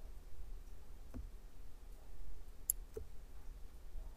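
A few sparse, faint mouse clicks sound in a quiet room during work in Wick Editor, spaced irregularly about a second apart over a low background hiss.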